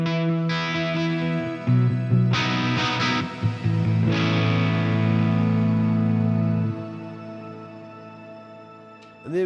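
Electric guitar chords played through dual Mesa Boogie amp models on a Fender Tone Master Pro with distortion turned low, crunchy and sustained, ringing out loud before fading to quiet near the end.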